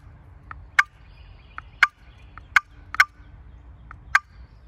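Sharp, short turkey clucks from a wooden box call worked by a paddle, five or six crisp pops spaced irregularly with fainter ticks between, close and clear in a quiet setting.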